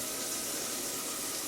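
Water running steadily from a kitchen faucet into a sink with a garbage disposer, a constant even rushing hiss with no pauses, moderately loud and close.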